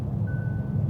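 A Kia Niro EV sounds one steady electronic warning beep inside the cabin when the low-battery car switches off adaptive cruise control. The tone is moderate and about half a second long, over a constant low road and cabin drone.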